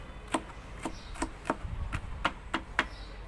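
A knife chops capia peppers in a quick, even rhythm, about eight crisp close taps in a few seconds, with no talking.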